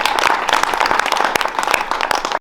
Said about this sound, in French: On peut applaudir, ouais, grave.